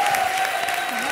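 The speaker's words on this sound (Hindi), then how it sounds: "जोरदार तालियां" A studio audience at a comedy show's poetry gathering claps steadily to welcome a poet, a brief even patter with a sustained tone running beneath it.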